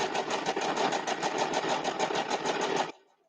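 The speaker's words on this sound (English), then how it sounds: "And I'm going to sew these 2 squares together" A sewing machine stitches two fabric squares together in a steady, rapid mechanical chatter, running close and continuous for about three seconds before stopping abruptly.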